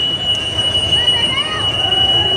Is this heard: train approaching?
yes